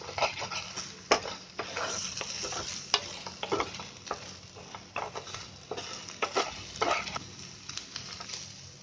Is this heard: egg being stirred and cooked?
yes